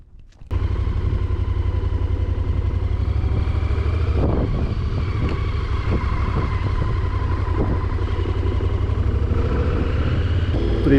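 A motorcycle engine runs steadily near Teriberka in the far north countryside, a close continuous mid-pitched drone starting abruptly and holding with slight rhythmic pulsing throughout.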